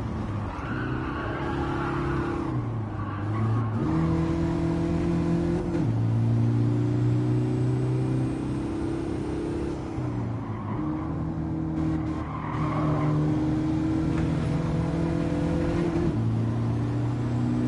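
Racing trucks in the Gran Turismo 7 video game roar continuously through a race to the finish line, with steady engine drone shifting pitch as gears change, plus occasional tire squeal, loud and sustained without talk.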